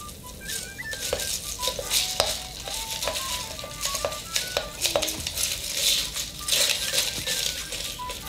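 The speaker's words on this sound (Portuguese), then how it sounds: "Com a bailarina, mexer" A bar spoon gently stirs a Mojito Black cocktail topped with soda in a glass, giving a run of light, bright glassy clinks and soft rattling over a faint fizzing hiss.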